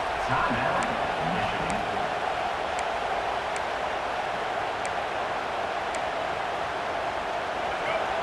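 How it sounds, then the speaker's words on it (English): Stadium crowd noise in EA Sports College Football 26, a dense continuous roar rising as the home fans push the defense, with faint periodic clicks over the wash. "this crowd coming to life here, trying to help the defense get a stop"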